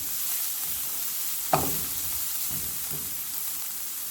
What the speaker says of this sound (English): I'm just gonna start first by sauteing my vegetables